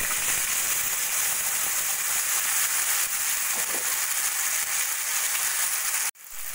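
Spice paste frying in hot oil for paneer masala, a steady loud crackling sizzle that holds throughout, then cuts out abruptly near the end.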